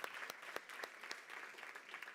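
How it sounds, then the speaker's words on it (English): Quiet, distant applause from an audience on a conference stage at a health and wellbeing summit in Valencia, with a few sharper individual claps standing out from the steady patter. "please give a big round of applause for Fernando"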